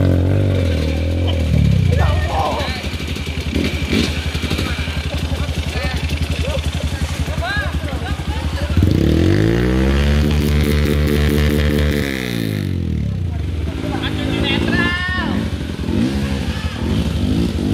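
Trail motorcycle riding off-road on a rough track, engine revving and labouring in repeated rising and falling surges, loud and close, with a strong acceleration burst midway, mixed with clatter and people talking.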